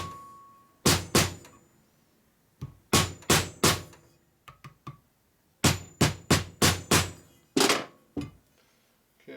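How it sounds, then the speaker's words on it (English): Repeated hammer blows on metal, beating it back hard against a dowel pin on a rebuilt 1946 Harley-Davidson Knucklehead stroker engine; loud, close strikes in quick bursts of three to five, separated by short pauses. "I'm trying to beat the metal back that way and make sure that it's hard against the dowel pin"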